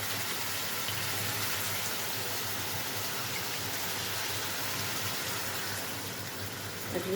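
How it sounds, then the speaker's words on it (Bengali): Water gushes into a pan of cauliflower curry as a soft, continuous pour that holds steady for several seconds before easing near the end. "আমি একটু জল দিয়ে দিলাম"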